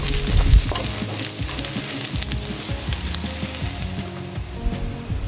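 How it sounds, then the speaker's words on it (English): Curry leaves fry with minced garlic, shallots and rasam paste in an oily pan, a loud continuous crackling sizzle broken by frequent stirring clatter throughout. "Add curry leaf, continue to saute until fragrant."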